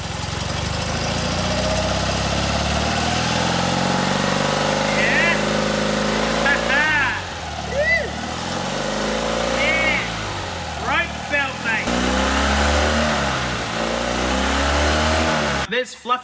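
A car engine runs with a makeshift fan belt made of knotted zip ties, idling and revving unevenly as the vehicle drives, with people talking over it throughout and a sharp clatter at the very end.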